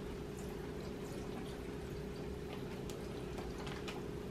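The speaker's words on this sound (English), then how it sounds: "Now we add the pickle juice." Pickle juice poured into a mixing container as a chicken marinade is prepared, a steady low trickle under a constant hum with a few faint clinks, no talking.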